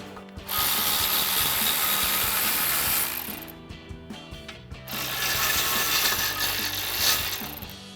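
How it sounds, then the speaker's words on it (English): A ratchet fitted with a 15 mm socket clicks steadily while backing out the caliper bracket bolts on a 1999-2002 Ford Mustang during a brake rotor job, loud and close, with a short pause midway before the ratcheting resumes. "our caliper bracket using our 15 mil socket on our ratchet"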